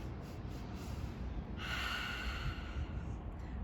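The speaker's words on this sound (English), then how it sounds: "we're going to take quick little bunny breaths in through our nose, 4 at a time" Quick sniffing breaths drawn in through the nose during a family yoga breathing exercise, taken four at a time; a close burst of sharp, airy inhales rises over a steady background hiss.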